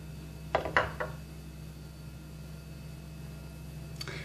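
A few light clinks and scrapes as a mint and honey drink is stirred, short taps clustered near the start and one more near the end, faint over a steady low hum.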